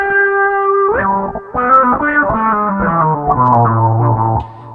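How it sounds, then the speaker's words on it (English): Roland GR300 guitar synthesizer hex fuzz tone runs through an external auto-wah pedal, playing a short single-note melodic line with gliding, sweeping filtered distortion, loud and alone. "So that sound is the hex fuzz sound being processed by an external effect pedal."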